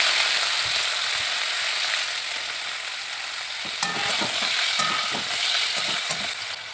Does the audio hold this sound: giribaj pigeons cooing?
no